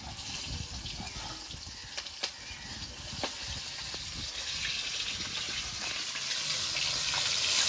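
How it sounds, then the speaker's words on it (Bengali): Rohu fish frying in hot oil gives a dense, continuous sizzle and crackle that swells gradually louder toward the end, with a few small pops and spatters scattered through it. "মাছের তেল হয়েছে, মাছটা ফুটছে"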